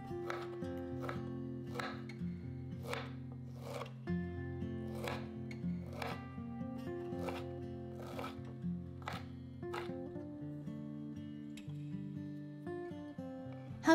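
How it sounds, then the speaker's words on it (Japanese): Boiled, well-drained broccoli chopped with a knife at 1 cm intervals on a cutting board, giving a steady series of crisp, evenly spaced taps, close and fairly soft, with no talk. "ブロッコリーは熱湯で1分茹でてしっかり水気を切ったものを用意します。 まとめて1センチ間隔にザクザク切ります。"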